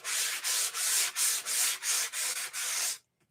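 Sandpaper is rubbed back and forth over a clear coat finish in about eight loud, close, even strokes with a steady rhythm, then it stops and falls silent.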